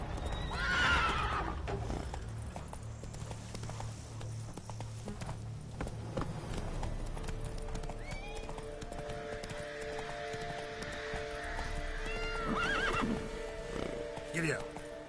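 Horse in The Witcher 3 neighing and whinnying loudly up close, with steady clip-clop of hooves at a gallop beneath a combat soundtrack and voices throughout.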